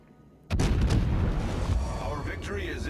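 Naval cannon fire from a Des Moines heavy cruiser in World of Warships, a sudden loud boom that rolls into a sustained rumbling roar with crackling debris.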